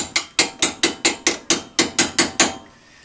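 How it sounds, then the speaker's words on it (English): A hammer taps a flat chisel eleven times in a quick, even series of sharp metallic knocks, close and loud, prying lock tabs off during a Datsun 311 Roadster brake kit install. "the easiest way to get them off is just with a flat chisel"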